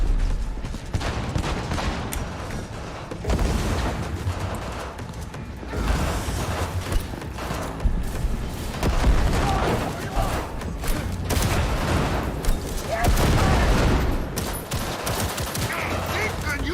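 Rapid gunfire from the Cyberpunk video game, dense bursts of automatic shots and booms in a steady barrage for the whole stretch, with someone talking over the shooting.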